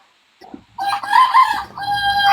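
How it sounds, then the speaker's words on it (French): A rooster crows loudly and close by, one long strained call breaking into a second rising phrase, heard alone with no talking over it. "Vous avez entendu que le coq a chanté."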